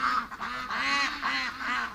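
A young, nearly featherless fluff duck named Billy gives several loud, nasal honks in quick succession, each call close and clear, with short gaps between.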